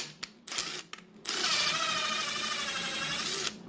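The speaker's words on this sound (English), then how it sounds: "So you actually have to drill out the coupler with an 1/8 inch drill." A small drill with a 1/8 inch bit bores out a motor coupler for an RC vehicle's worm gear transmission. It gives a few short bursts, then a sustained high whine for about two seconds before stopping.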